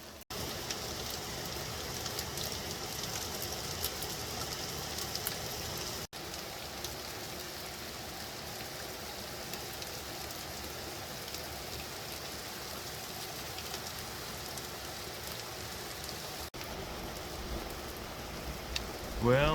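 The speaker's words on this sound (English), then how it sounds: "Well, the hail moved on for the most part, and now it's just raining a lot." Heavy rain pouring steadily after a hailstorm in the wilderness, heard from under a rock ledge as a dense, constant hiss of drops hitting surfaces, with a few brief knocks.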